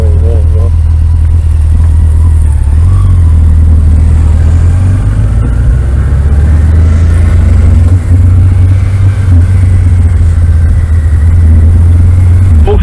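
A 2012 Suzuki V-Strom 650 or 2003 Yamaha FJR1300 motorcycle engine running steadily with a low, continuous turbine-like hum, heard up close with wind and riders talking over it.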